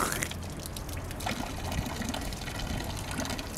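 Water runs steadily from a stone fountain in a hilltop cemetery, a soft continuous splash and trickle at moderate distance with faint outdoor ambience and no talk.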